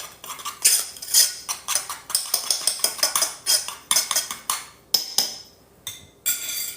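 Okra (gombo) being stirred in a cooking pot for Guinean lafiri, a close, busy run of metal utensil scrapes and clinks against the pot, coming in quick bursts with brief pauses.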